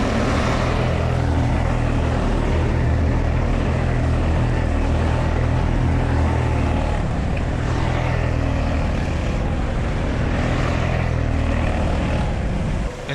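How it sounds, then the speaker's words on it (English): A helicopter filming a race in a racing video game gives a steady, dense whirring drone that holds at an even, fairly loud level throughout, with no talking. "abbiamo pure l'elicottero che ci fa le immagini"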